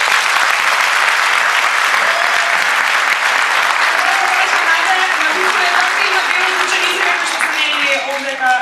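Sustained audience applause at a patron saint's day celebration, a dense, steady wash of clapping from a large crowd that holds at full strength for the whole stretch, with faint voices and a tonal sound mixed in toward the end.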